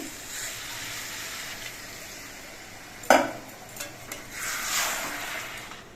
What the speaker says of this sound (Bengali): এবার এর মধ্যে অল্প করে একটু জল দিচ্ছি